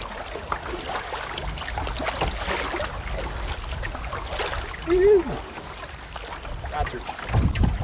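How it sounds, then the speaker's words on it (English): A solo canoe being paddled down a windy bay, with steady wind noise and soft water sloshing and dripping from the paddle, plus a brief thump and creak. "So this is the last bay that we have to paddle down."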